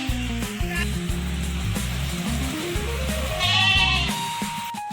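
Loud, close goat bleating in the rain: several wavering, nasal bleats in succession, nearly continuous, with a rougher, higher cry near the end.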